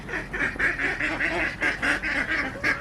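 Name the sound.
ducks quacking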